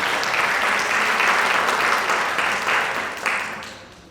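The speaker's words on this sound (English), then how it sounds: "Let's give her a round of applause," Sustained audience applause at a women's empowerment conference, a dense, steady wash of many hands clapping throughout, gradually thinning toward the end with a few louder claps standing out.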